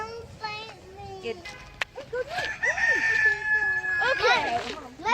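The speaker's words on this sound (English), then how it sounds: "This rooster over here was crowing like a beast." Rooster crowing loudly and repeatedly at an animal park in Germany, with several drawn-out calls rising and falling, plus other fowl nearby and people talking in the background.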